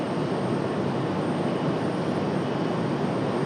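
A jet taking off at Raleigh-Durham International Airport produces a dense, steady engine roar that holds at constant loudness throughout, heard from a distance with no voices.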